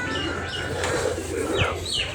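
Pigeons bathing in water, with soft wing flaps and splashes over a steady low background and occasional faint bird calls.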